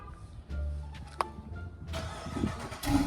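A Chrysler 300 with stock exhaust cranks and fires up close by, a low idle hum settling in, then the engine catches with a brief rise in rumble, fairly quiet overall.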